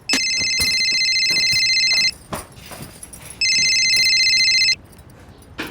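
A telephone rings loudly in two long trilling bursts with a short pause between, close and shrill, with faint background clatter.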